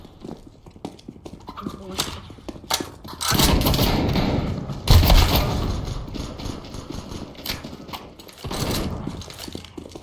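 AK-47 fire in the video game Counter-Strike, a few loud bursts of rapid shots standing out against background game noise while someone talks over it.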